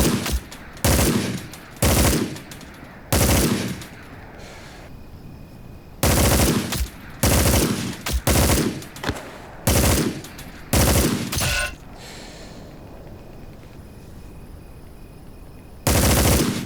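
Hell Let Loose: Vietnam gunfire: loud, close automatic bursts of machine-gun fire repeat in short, separate volleys with brief pauses between them, and the bursts thin out toward the end.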